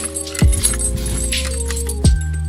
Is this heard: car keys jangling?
yes